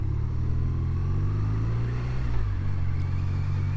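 A 2024 BMW R12 motorcycle being ridden, its engine a steady close rumble with a brief rise and dip in revs partway through, heard alone without voices.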